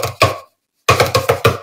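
Cardboard paper towel tubes tapped in a quick rhythm: two hollow knocks, a short pause, then five rapid taps, close and dry with no talking.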